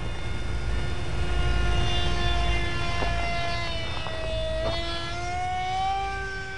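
A Mini Swift RC flying wing in flight gives off a steady, high-pitched motor whine whose pitch gently drops and rises as it passes. The sound is continuous and fairly loud, with no talking.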